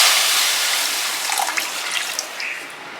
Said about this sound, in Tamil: ஒரு கிளாஸ் தண்ணி எடுத்துக்கிறேன்.